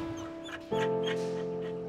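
A dog gives a drawn-out, high-pitched whimpering whine at an adoption hub, rising sharply and louder partway through and holding steady, close by with no talk.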